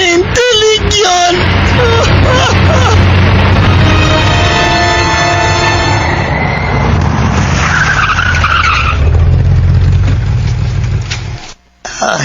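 A car skids to a stop near a house, a long loud tire screech over engine rumble lasting most of the moment, then cutting off abruptly, with music playing underneath.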